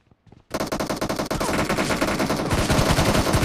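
Rapid automatic gunfire from a PUBG team match rattles out in dense, loud bursts after a brief quiet start, with sharp shots overlapping continuously to the end.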